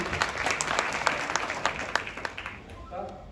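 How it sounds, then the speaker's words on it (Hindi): Audience applause for the chief guest at a successful event in New Delhi, a steady wash of clapping with distinct near claps standing out, fading toward the end. "एक बार जोरदार तालियां बजा दें हमारे चीफ गेस्ट के लिए"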